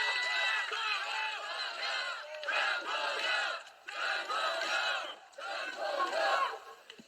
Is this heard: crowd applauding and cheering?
yes